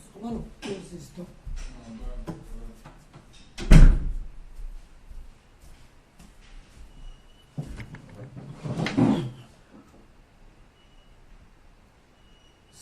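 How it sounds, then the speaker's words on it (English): An indoor door is closed during a charity giveaway meeting, making two dull thuds several seconds apart, with people talking faintly around them. "I want to close this door."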